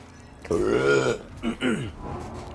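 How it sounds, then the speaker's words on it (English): A loud, drawn-out burp of about a second, followed by a shorter second eruption, close to the mic with nothing else over it. "I'm about to burp."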